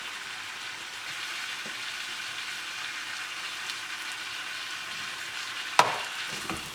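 Green beans curry frying in oil in a pan, a steady close hiss and sizzle with a few soft scrapes and one sharp clack of stirring near the end.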